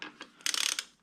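A short burst of rapid ratchet clicks from a wrench snugging a bolt on a Suzuki SV650 motorcycle, preceded by a couple of soft handling taps, close and crisp.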